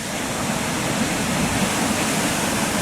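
Düden Waterfall near Lara in Antalya pours off a cliff into the Mediterranean Sea, giving a steady, loud, broadband roar of falling water that stays even throughout, with no voices.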